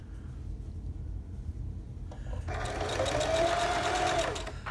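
A sewing machine stitching a fabric face mask with elastic starts up after a quiet pause and runs in a steady, fast mechanical whir for about two seconds, close and moderately loud over a low background hum.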